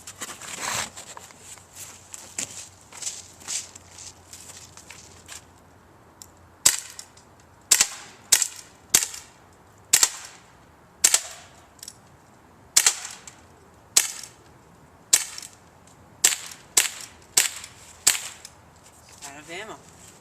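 A CO2-powered BB pistol fires about a dozen sharp, snappy cracks, spaced unevenly and close by, with quieter handling clicks at the start.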